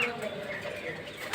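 Rajshahi giribaz pigeons, kept in colour-matched pairs, coo softly in a short burst, with faint background voice sounds nearby.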